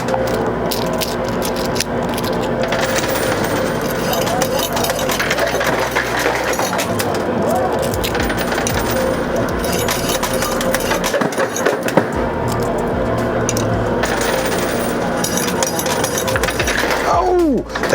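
Quarters clatter and spill inside a coin pusher machine, a dense continuous jangle of metallic drops and mechanical rattling with steady arcade din around it and no clear talk.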